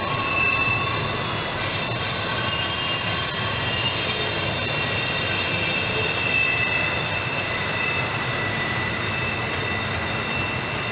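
A freight train pulled by two engines rolls past steadily on the Horseshoe Curve near Altoona, its wheels squealing in high, sustained tones over a low rumbling clatter of cars.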